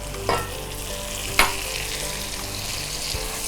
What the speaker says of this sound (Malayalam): ടൊമാറ്റോയും ഈ എണ്ണയിൽ കിടന്നിട്ട് ഒന്ന് റോസ്റ്റ് ആകട്ടെ